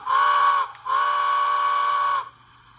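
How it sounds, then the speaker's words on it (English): A Bachmann HO-scale 4-4-0 model locomotive's sound function plays two whistle blasts, a short toot followed by a longer one, with a breathy steam-whistle tone that stops abruptly. "Function 3 plays a short burst of the whistle."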